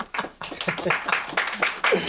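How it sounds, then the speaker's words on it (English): Scattered clapping from a small studio audience welcoming guests on a comedy talk show, a few uneven hand claps with a brief pause, close and moderately loud, with faint voices underneath. "Taylor, you could clap when I say the guest names."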